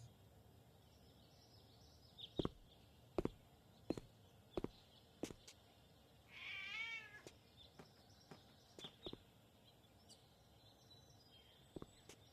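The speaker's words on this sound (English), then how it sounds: "A black cat." A black cat meows once, fairly close, in the Gabriel Knight 3 video game, set among sharp intermittent clicks or footsteps and a faint ambient background.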